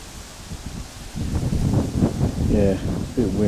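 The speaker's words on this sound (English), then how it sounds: "Yeah, a bit windy." Wind gusting across an open meadow at a nature reserve, a broad low rumble and buffeting that strengthens partway through, with a voice talking over it near the end.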